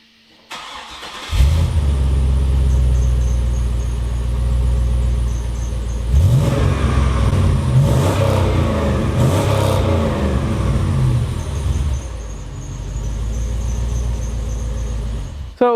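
An 80 Series Land Cruiser with a swapped 5.3 V8 and a very small muffler is started, then idles with a deep rumble and gets revved hard several times, loud and close, for about fifteen seconds.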